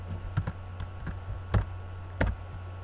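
Irregular clicks of typing on a computer keyboard during a Minecraft skin install on a PC, about five distinct key taps over a steady background hum, close and moderately loud.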